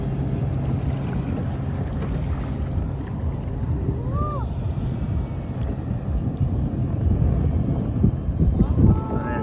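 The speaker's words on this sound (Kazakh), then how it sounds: "Шайқап жатыр ана қайық өтіп кеткеннен кейін" Small boat motor passing on Mission Bay while a kayak rocks on the leftover waves, a low continuous rumble and water slosh under wind buffeting, with brief voices and faint whistling tones on the bay.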